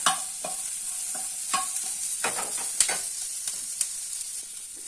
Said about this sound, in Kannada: ಈರುಳ್ಳಿ ಫ್ರೈ ಆಗೋದ್ರೊಳಗಡೆ